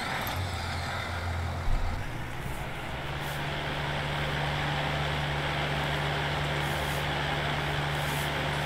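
A vehicle in Farming Simulator 19 reverses on a farm map: a steady low engine drone with a droning tone, continuous and fairly close throughout, with a brief bump early on and no talk.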